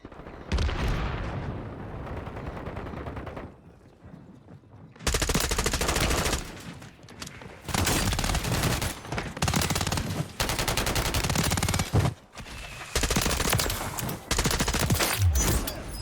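Bursts of rapid automatic gunfire from Patriot kit guns in Call of Duty Warzone, loud sustained volleys broken by short pauses across the stretch, close and dense with sharp repeated reports.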